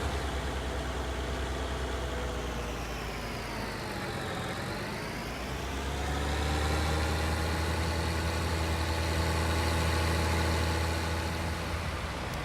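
Harvester engine in Farming Simulator 19, a steady heavy diesel drone running throughout, dipping briefly in pitch midway then rising into a deeper, louder rumble, no talk.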